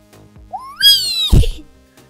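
A single rising-and-falling cat meow from the Roblox game, clear and close, about a second long, followed by a short soft thump.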